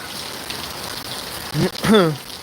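Hail and rain fall in a steady, dense patter that holds throughout, with a voice speaking briefly near the end.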